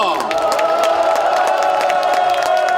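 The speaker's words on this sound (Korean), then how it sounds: "이분들께 박수 한번 보내주시기 바랍니다." Crowd at a Democratic Party joint campaign rally in Incheon cheers and claps loudly and steadily, a dense wall of applause and shouts with a tonal hum running underneath throughout.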